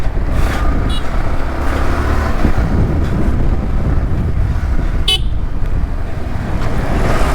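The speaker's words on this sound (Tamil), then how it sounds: "இப்போ பாருங்க எப்படி டிராஃபிக் இருக்குது பாருங்க." City road traffic passes a rider on a Yamaha R15 V3 motorcycle in Tamil Nadu: loud continuous rumble and wind buffeting, with a short car horn toot near the end.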